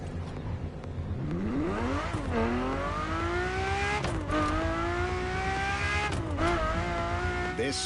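Ferrari LaFerrari V12 hybrid hypercar in The Crew Motorfest, set in Hawaii, revving hard through rising gear pulls with sharp shifts, loud and close with a high whining engine tone.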